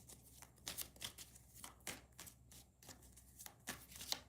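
Rider-Waite tarot cards are shuffled repeatedly nearby, a rhythmic series of crisp riffling bursts with no talking.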